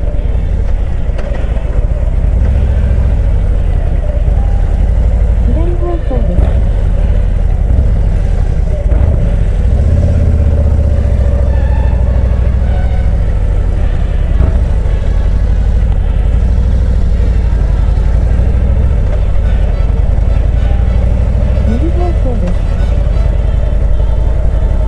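A Harley-Davidson motorcycle engine rumbles steadily for the full length, low and loud at close range, with slight rises in revs as the bike pulls away on an uphill start.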